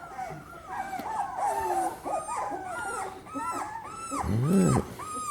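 Beagle puppies whimper and whine in a series of high, wavering cries, close and fairly loud, with one stronger yelp-like burst near the end and no talking.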